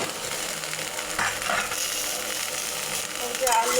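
Potatoes and cauliflower frying in oil in a pan for a turmeric fish curry, giving a steady close sizzle with occasional stirring scrapes throughout.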